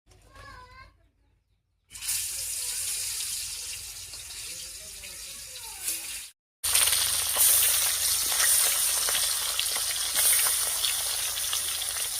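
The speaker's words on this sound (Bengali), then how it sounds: "এবার কড়াইয়ে সর্ষের তেল দিয়ে মাছগুলো ভালো করে ভেজে নেব" Lata fish frying in mustard oil in a wok, giving a loud, steady, close sizzle that cuts out for a moment and then returns even stronger, after a quieter opening with some talking.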